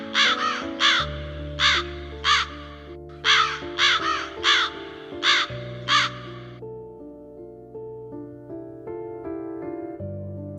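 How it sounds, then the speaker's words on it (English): Two crows on a sandy backwater shore caw loudly in repeated harsh bursts while squabbling over a small crab, the calls clustered near and clear with a steady musical background underneath. "A crow finds its meal, a small crab. But in seconds, another crow takes over,"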